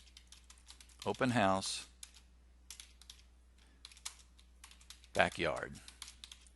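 Someone types a street address on a computer keyboard while setting photo captions for a real estate website. Scattered light key clicks sit between two short bursts of speech.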